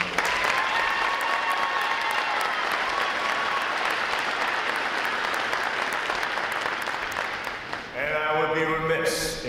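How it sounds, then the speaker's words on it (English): Audience at a U.S. Navy Recruit Training Command graduation applauding, a broad steady wash of clapping from a large crowd for several seconds before a voice speaks briefly near the end. "give them a round of applause for representing the"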